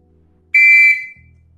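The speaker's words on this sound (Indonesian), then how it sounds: "tapi ini peluit yang memang betul-betul dari Inggris. Peluit yang tidak ada isinya." A pealess whistle made in England is blown once, a loud, clear, steady shrill tone lasting about half a second before trailing off, with no one talking over it.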